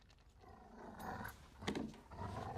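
A dog growling in a post-apocalyptic drama episode, a low, rough, continuous snarl with rising bursts, heard faintly amid background noise.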